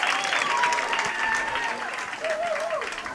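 Crowd at a 2015 Babe Ruth World Series baseball game between West End, PA and Lawrenceburg, TN applauds and cheers steadily after a base hit, sustained clapping throughout with a voice talking over it.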